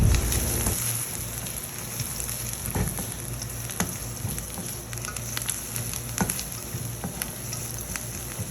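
Chopped onions with a spoonful of cumin seeds fry in a pan, giving a steady, even sizzle with scattered small pops and an occasional stir, close and continuous with no talking.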